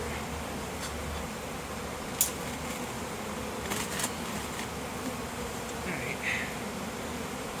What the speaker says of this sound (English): I got a lot of bees hanging out on that side over there